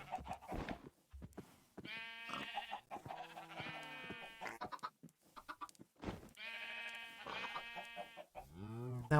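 Minecraft sheep bleat repeatedly in the game, several drawn-out wavering bleats spaced across the stretch with short gaps, fairly clear against quiet surroundings.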